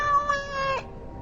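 A single cat meows in the Dragon Age: Awakening video game, a clear, drawn-out tonal meow that ends abruptly, alone with no talk.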